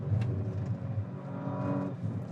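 A 2019 Audi RS4 Avant wagon accelerates from low speed, its engine note rising steadily in a smooth, moderately quiet drone heard from inside the car.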